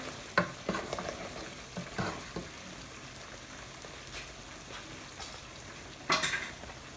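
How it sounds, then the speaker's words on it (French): Amaranth greens stirred in a cooking pot over a steady, soft sizzle, with a few scraping spoon strokes and a louder clatter near the end, close and with no talk. "j'ai pris des légumes. Je mélange les légumes."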